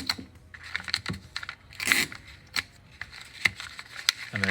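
Cord being snipped with scissors while tying a Josephine knot, a few short sharp cuts and crinkly handling noises, close and fairly quiet with no talking.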